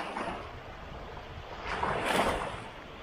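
Sea waves washing against a stone breakwater by the shipping canal on the Vistula Spit, a steady soft roar with a gentle surge swelling midway, wind noise mixed in, no voices.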